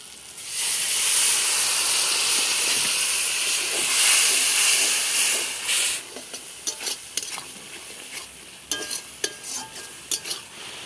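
Water hitting hot oil and fried spices in a pan while cooking a fish curry gives a loud, steady hiss and sizzle for about six seconds. The burst then settles into quieter stirring with scattered clinks, and no one speaks.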